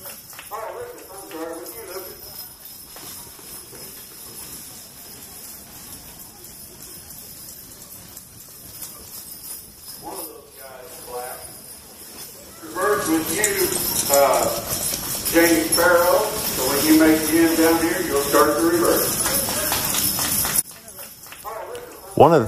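A four-horse draft hitch at a draft horse show pulls a load, and its hooves clip-clop steadily at a walking pace. The hoofbeats grow louder partway through, under continuous talking and background crowd noise.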